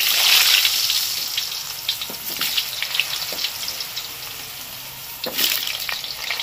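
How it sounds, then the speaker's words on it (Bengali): Potato pieces drop into fully heated oil in a clay pot over a stove, giving a strong sizzle that starts loud and settles into a steady bubbling fry with a few faint clinks. "এবার আলুগুলোকে ভেজে নেবো।"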